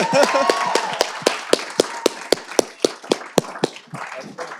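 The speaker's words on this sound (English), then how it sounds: "Can we all just clap it up real quick?" A panel audience claps in a steady, rhythmic beat, sharp individual claps at even intervals, with some chatter and a voice over the start before the clapping thins out.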